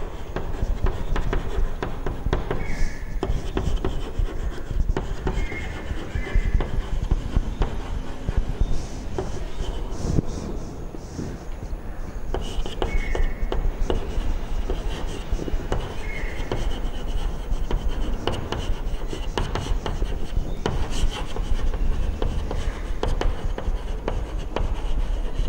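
Writing on a board during a computer science class, with steady close scratching and rubbing strokes that come in repeated bursts for about half a minute and no speech.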